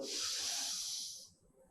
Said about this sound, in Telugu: పూర్తిగా శ్వాసను తీసుకొని